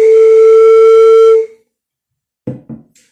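A breathy, hollow whistle-like tone from air blown across a water-filled glass bottle rings loud and steady for over a second, then stops, followed by two soft knocks.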